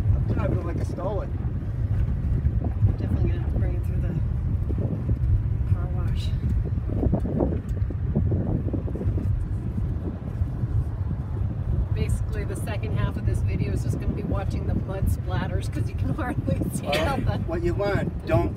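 A vehicle drives through mud during the Navajo mud season, its engine droning low and steady throughout, with wind buffeting and people talking over it and sloshing spatter near the end.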